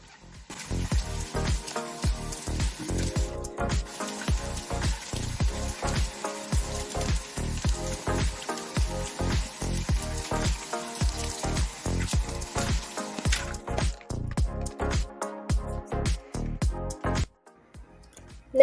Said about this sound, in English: you're going to rinse them off one by one to get all the soap off.